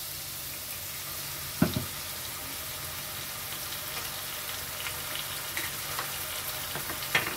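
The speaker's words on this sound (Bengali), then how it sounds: "পেঁয়াজগুলো ভালোভাবে ভাজা হয়ে গেছে, দিয়ে দিচ্ছি কাঁচা লঙ্কা, আদা রসুনের বাটা" Green chili and ginger-garlic paste sizzle steadily in a pan with fried onions for a Bengali dahi bata dish, a soft, even hiss with a few light clinks of stirring, no talking.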